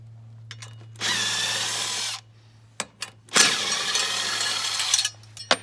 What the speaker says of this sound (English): just support your transducer, put on a bucket or something or whatever, and undo the transom mount screws